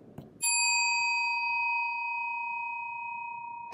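A game show answer bell rings once with a sharp, bright strike and then rings on with a long, steady metallic tone. It stays loud and clear for over three seconds, with no talk over it.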